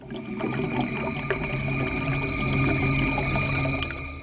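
A toilet flushes away long-stagnant water in a continuous gushing, gurgling rush that swells and then fades over a few seconds, close and fairly clear, with no voices.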